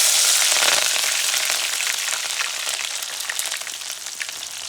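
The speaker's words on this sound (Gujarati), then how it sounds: "તડર એમ અવાજ આવ્યો છે, એટલે બીબડા નહોતા કાઢ્યા, એટલે બી ફાટતા હોય" Hot oil with garlic and whole green chillies still holding their seeds, in a village-style Maggi recipe: loud, dense crackling and sizzling close up, fading slowly over a few seconds.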